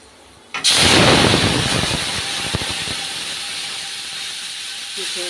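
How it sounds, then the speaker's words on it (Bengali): Dal tipped into hot oil tempered with five-spice, dried red chillies and bay leaf sets off a sudden loud, steamy sizzle that hisses on steadily and slowly eases, close up with no talk. "ডালটা দিয়ে দেবো এখন।"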